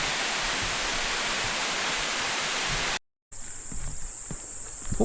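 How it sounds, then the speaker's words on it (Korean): Unggye Falls on Gamaksan in Gyeonggi-do, dropping almost vertically off a rock cliff: a dense, loud, continuous rush of falling water, then after a brief cut a softer, more distant roar with a few footsteps nearby. "암벽에서 떨어지는 물소리와 풍경이 장관입니다"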